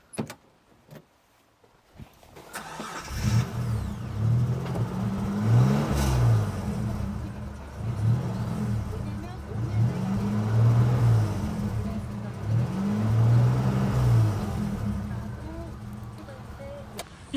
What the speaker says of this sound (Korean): 6기통 엔진 아주 부드럽습니다.